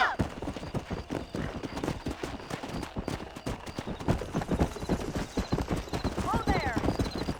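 Horse hooves in the Red Dead Redemption video game clop in a fast, rhythmic gallop across the whole clip, close and steady, with someone talking over the riding and a brief whinny.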